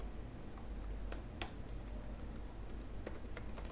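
Quick, light clicking of computer keys while code is typed, a soft close patter of keystrokes over a faint steady hum.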